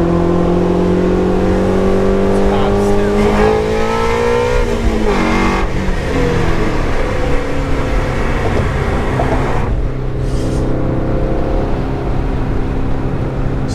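Sports car engine revving loudly on a bridge, a Shelby GT350 or E92 M3 with wide 295 front tires, the note climbing through rising and falling revs, close and continuous with no talk over it.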